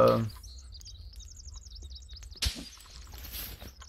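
Birds chirp in the survival video game The Forest with quick, repeated tweeting calls over a quiet background. A brief rustling burst cuts in near the end.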